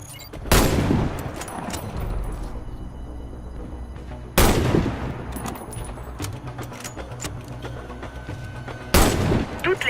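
Three loud, sharp sniper rifle shots in the video game Warface, spaced roughly four seconds apart, each with a booming echo that trails off under a steady background hum.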